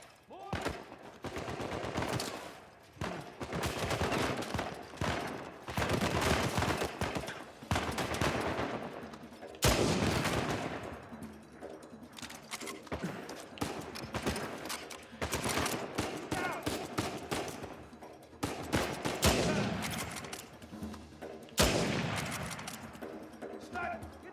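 Gunfire from Uncharted 4: A Thief's End comes in sharp repeated bursts and volleys, some close and loud, some spaced apart, with a player's voice talking between the shots.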